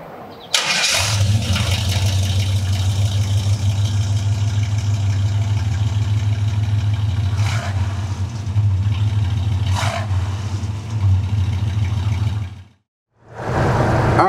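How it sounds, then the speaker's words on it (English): A 1970 Chevrolet C10 pickup's 350 V8 cranks and fires, then settles into a loud, steady, rumbling idle close by for about eleven seconds with a couple of brief rises, before cutting out and restarting near the end. "First, I want you guys to hear it starting up."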